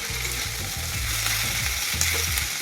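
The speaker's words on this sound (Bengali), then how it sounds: "আগে পেঁয়াজগুলো ভালো করে একটু ভেজে নিই" Onions frying in a pan before the salt goes in, browning toward a reddish colour for an onion and poppy-seed dish: a steady close sizzle with stirring scrapes and no talking.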